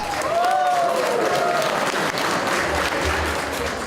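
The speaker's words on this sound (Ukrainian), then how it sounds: "вдячні гості та молодята нагородили співаків бурхливими оплесками" Wedding guests and the newlyweds burst into loud, sustained applause for the singers, a thick wash of clapping with a brief voice or tone near the start.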